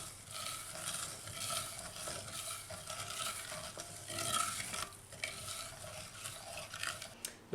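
Caustic soda is stirred into a saucepan to dissolve, a faint, steady scraping and swishing with soft clinks of the utensil against the pan, heard close and alone.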